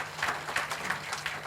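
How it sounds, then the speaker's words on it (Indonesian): Real estate agents at a company gathering applauding, a soft, distant-sounding patter of many hands clapping that swells in small bursts for a moment. "Tepuk tangan dulu untuk Anda semua."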